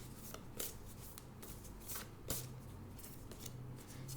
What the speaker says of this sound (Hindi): Let's get one animal spirit guide oracle card.